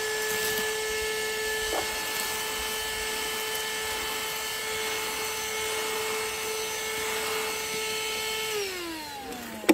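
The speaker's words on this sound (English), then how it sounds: "it cleaned this up really nicely, especially with this brush attachment, rubbing it like this on the carpet" An AstroAI portable 12-volt car vacuum cleaner runs with a steady, high motor whine close by, then winds down in pitch as it is switched off near the end.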